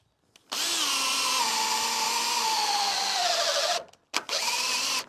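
A power drill bores a 16mm hole in a cedar-clad store door on a garden room, a loud whining spin-up that runs steadily, drops slightly in pitch under load, stops briefly, then whirs again.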